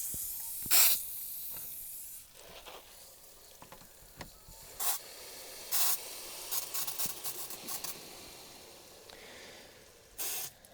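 Bursts of pressurized water spraying from a pump fitting as it is disconnected with a wrench, in short hissing spurts, loud and close, separated by quieter stretches of background noise.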